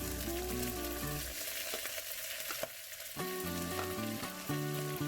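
Green chillies, curry leaves and sliced onion sauté in hot oil with a constant loud sizzle and occasional stirring scrapes, while music plays underneath.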